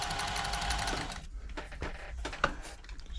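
A Silver/Pfaff 1139 sewing machine runs at a steady mechanical whirr for about a second, then stops, leaving scattered clicks and handling knocks from the mechanism.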